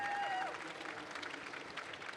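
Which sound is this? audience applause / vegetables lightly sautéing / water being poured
audience applause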